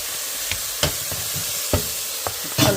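Chicken with curry, ginger and salt sizzles in a pan, a steady frying hiss broken by several sharp clacks and scrapes of a utensil stirring against the pan.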